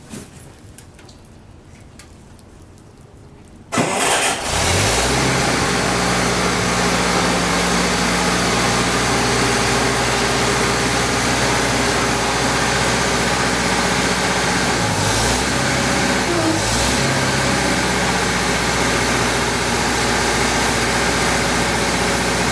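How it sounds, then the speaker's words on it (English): A skid steer engine starts up after a few seconds of quiet, then roars loud and steady at close range as the machine drives forward, with small shifts in pitch partway through. "I'm just going to go ahead and pull the skid steer forward and get it lined up"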